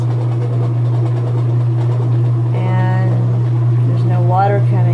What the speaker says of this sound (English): when I put it on spin, close it up. This is the noise that it makes.